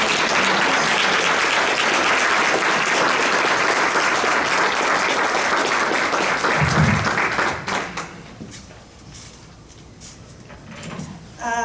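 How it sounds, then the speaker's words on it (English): A political forum audience applauds the candidates, a loud continuous wash of clapping for about eight seconds that then fades out to scattered claps and quiet room noise. "now we can give our candidates a round of applause"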